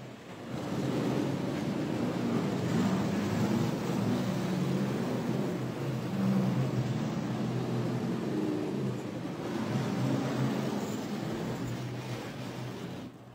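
NASCAR Sprint Cup cars roll slowly out of the Talladega garage, a continuous low engine rumble that swells as they pass nearby, with wind-like noise and no speech.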